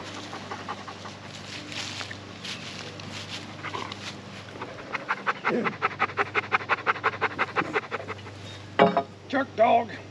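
A retriever dog pants close by: quick rhythmic breaths in a long regular run in the middle, followed by a few louder huffs and rustling near the end.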